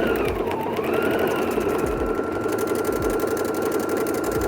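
A sewing machine stitches a buttonhole in reverse through fleece with ribbon, a fast steady mechanical whir with rapid regular needle clatter, close and continuous.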